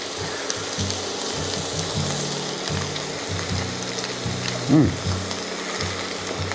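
Ground meat mixture for shepherd's pie frying in a pan, a steady close sizzle with stirring scrapes and a brief louder clatter near the end, no talking.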